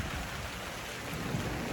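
Thunderstorm with steady heavy rain pounding down and a low rumble of thunder underneath, a dense continuous wash of sound throughout.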